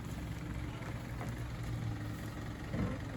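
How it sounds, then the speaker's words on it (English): A 4x4 with a big exhaust rumbles at low revs on an off-road track, a faint and distant engine drone that holds steady with a slight swell near the end. "No, it's Michael, he's got the big exhaust."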